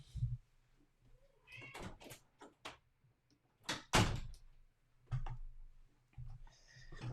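A house cat meows a few times in short, rising calls amid other indoor noises, including what sounds like a door or bumps, with no talking over it.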